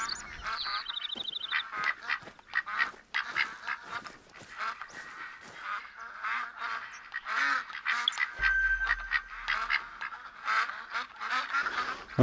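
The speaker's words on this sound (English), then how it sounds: "Okay, ducks." A flock of ducks quacks repeatedly in the hunting game Hunter Call of the Wild, loud overlapping calls in irregular bursts, close by, with a brief interface tone partway through.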